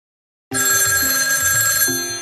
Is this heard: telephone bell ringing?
yes